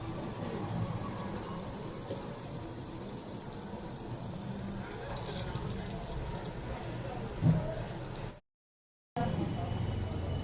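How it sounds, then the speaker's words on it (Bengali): Dahi vada lentil fritters fry in hot oil with a steady, rain-like sizzle that runs without a break. It cuts out abruptly near the end, then returns. "বাকিগুলো আমি একইভাবে ভেজে নেব।"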